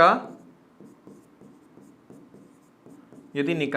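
A pen scratching on paper during a physics lesson, a soft rhythmic series of short strokes, quiet and close, with a teacher's voice briefly at the start and end.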